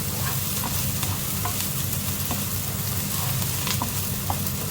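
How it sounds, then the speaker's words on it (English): Roasted garlic being stirred into a hot pan of beef mince for lasagne, a dense continuous sizzle with repeated spoon scrapes and taps, close and fairly loud, no voices. "Add the roasted garlic, yeah, roasted garlic, and let's give a good mix"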